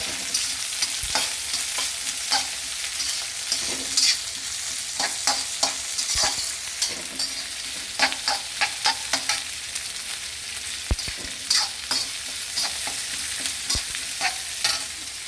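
Onions and curry leaves fry in a pan for a poha upma, a continuous close sizzle broken by frequent sharp clicks and scrapes of a spoon stirring against the metal.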